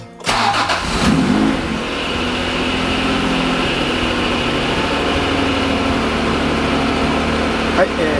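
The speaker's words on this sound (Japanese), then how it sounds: "はい、エンジンかけます。" An Acura NSX engine cranks and catches near the start, then settles into a steady, loud idle that runs the length of the clip with a faint rise near the end.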